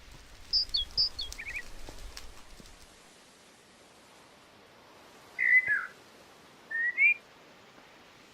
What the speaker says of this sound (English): the birds are pretty loud, aren't they?